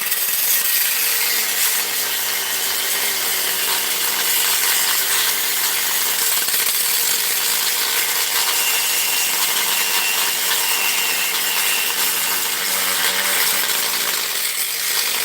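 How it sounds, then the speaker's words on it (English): A power saw with its guard still on cuts through bolts during the teardown of a tower, a continuous loud, harsh grinding screech of metal cutting that holds steady for the whole stretch. "we're cutting the bolts off."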